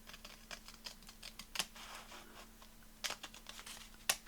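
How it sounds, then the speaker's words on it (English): Paper being cut in short strokes for a handmade gingerbread man journal, a soft crisp snipping with a few sharper cuts standing out, close and quiet, no voices. "So I'm going to cut that now"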